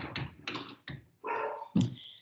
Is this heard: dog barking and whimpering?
yes